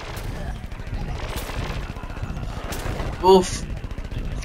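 Gunfire in Plants vs. Zombies Garden Warfare 2, a fast rattle of shots steady across the clip with a brief grunt near the end.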